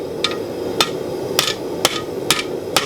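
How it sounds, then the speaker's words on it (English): Six sharp, evenly spaced hammer blows ring out as a blacksmith forges a spoon on an anvil, each strike a bright metallic clang close to the listener. "if you get too bent out of shape, you get inefficient hammer blows"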